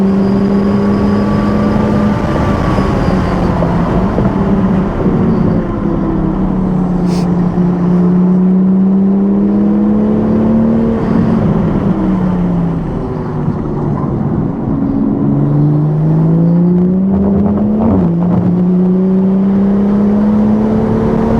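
Toyota A90 Supra engine lapping the Thunderhill track, a loud steady drone that climbs and falls in pitch through shifts and corners, close and continuous for the whole stretch with no talk.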